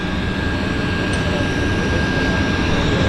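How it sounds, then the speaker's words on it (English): An aircraft passes at Vancouver's downtown Harbour floatplane airport, heard as a steady, broad, loud roar that holds evenly throughout with no break, and a thin high tone running beneath it. "Here's our next aircraft."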